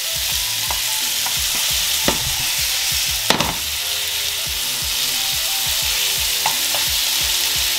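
Salmon searing in a hot pan, a steady crackling sizzle punctuated by repeated sharp scraping strokes and one louder clack, close and loud with no speech.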